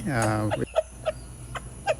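A Turpu (Bhimavaram) breed rooster about ten months old gives one drawn-out harmonic call, then four or five short, close clucks. A faint voice can be heard in the background.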